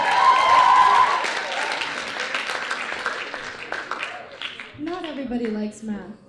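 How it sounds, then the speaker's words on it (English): Opening-ceremony audience at a TOK conference applauds, loud and dense at first then thinning out, with a whoop and a voice cutting through near the end. "Another round of applause."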